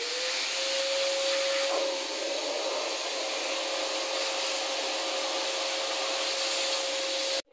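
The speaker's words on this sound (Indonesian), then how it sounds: "review vacuum cleanerku." A handheld vacuum cleaner runs steadily and loudly, working into narrow crevices, with a constant whining motor tone and airflow hiss that cuts off abruptly at the end.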